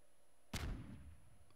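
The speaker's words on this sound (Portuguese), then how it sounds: "quando o barril chegar lá no topo, no limite do mapa, ele vai estourar" In Garry's Mod, a barrel bursts into fireworks with one sudden loud blast, then a short rumbling tail that fades within about a second.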